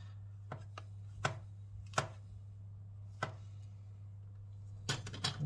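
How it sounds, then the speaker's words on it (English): A knife slices mushrooms on a chopping board in several sharp, separate cuts spread irregularly across the moment, close and fairly quiet over a steady low hum. "If you are choosing to use mushrooms, simply, depending on the type that you use, I will simply get them into little slices like that"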